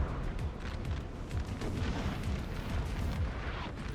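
Artillery cannon fire in the Napoleon Total War video game, a dense stretch of overlapping booms and rumbling blasts that keeps the battle din loud and constant.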